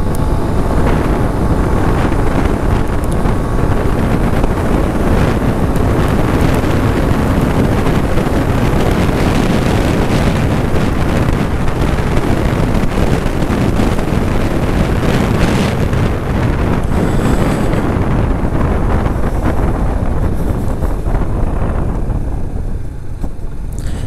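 A Suzuki GR150 motorcycle rides fast in fifth gear on a straight road, the engine drone buried under loud, continuous buffeting wind noise for the whole stretch, with no talking.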